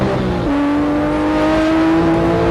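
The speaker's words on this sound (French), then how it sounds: "le moteur pousse dans le dos et déverse toute sa puissance" Porsche 911 GT3 engine pulling hard under acceleration, a loud, close, steady rising drone with one sharp pitch drop from a gear change early on, then climbing smoothly again.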